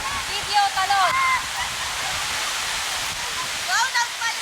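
A steady rushing roar of falling water fills the scene, with excited voices calling out over it near the start and end.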